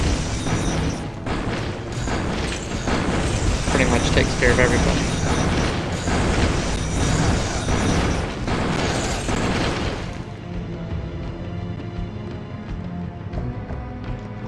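Rows of a sorcerer's firewall spell roar and crackle in Diablo: Hellfire, a loud, dense sustained burning that holds steady for about ten seconds before thinning to a quieter hiss.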